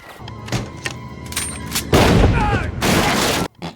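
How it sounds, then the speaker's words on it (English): In a scene from The Punisher film, loud gunfire erupts as two dense, sustained bursts of rapid shots follow some scattered earlier bangs. "The monsters, of course, find his family and start shooting him up."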